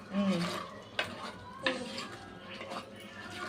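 Onion paste frying in oil in a clay pot, stirred with a utensil that knocks against the pot a couple of times, over a steady low sizzle.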